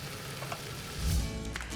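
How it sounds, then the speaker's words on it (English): Soft, steady sizzling of chicken kabobs frying in a pan, with a brief low thump partway through as the kabobs are turned. "So I've got this sizzling, and I'm gonna give it a turn."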